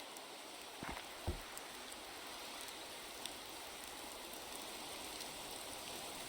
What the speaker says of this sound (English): gotta get in from out of the rain